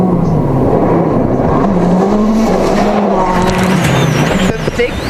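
A WRC rally car races flat out through a fast stage in Mexico, engine droning and shifting pitch continuously with gritty road noise, loud and close throughout.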